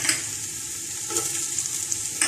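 Ginger and green chilies frying with browning onions in a pan, a steady soft sizzle with a few light stirring clicks, close and fairly quiet, no talking.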